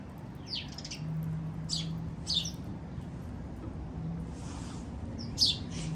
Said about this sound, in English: I was just watching these little birds over there.